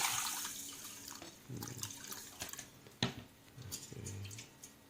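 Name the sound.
water being poured into a pot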